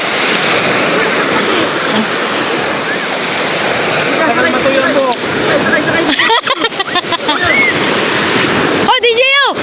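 Ocean waves washing onto a beach at an evening seaside dinner, a loud continuous surf roar with splashing, with people talking and shouting over it and bursts of wind buffeting near the end.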